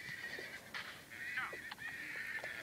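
A horse whinnies repeatedly in the survival video game Survival Craft, several short high neighs breaking over a constant synthetic tone, faint and small in level, with no one talking.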